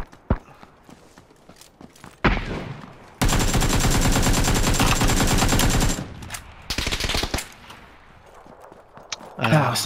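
Sustained automatic gunfire in a PUBG squad match in a desert map, a long dense burst of rapid shots followed by shorter bursts, loud and close, with scattered single shots and brief voice chatter around them.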